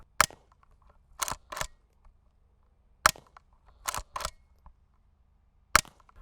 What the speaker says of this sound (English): Like that pinging noise you hear, that's the striker hitting the rimfire case.